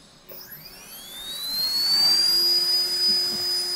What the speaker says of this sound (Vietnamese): Kinh thật, mình mới chỉ tăng một tí thôi, động cơ dành cho chế máy bay nó mạnh thật đấy